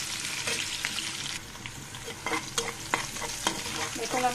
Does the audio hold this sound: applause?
no